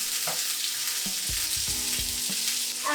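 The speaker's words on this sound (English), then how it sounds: "Now I'll toss in the sliced onions" Sliced onions hit hot oil already fragrant with cloves and cumin, bursting into a loud, close sizzle with several clattering stirs and scrapes of a spoon against the pan.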